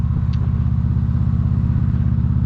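A Victory Cross Country motorcycle engine runs steadily close by, a deep, even low-pitched rumble with a constant throb that never rises or falls.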